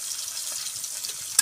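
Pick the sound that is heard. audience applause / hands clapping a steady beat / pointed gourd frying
pointed gourd frying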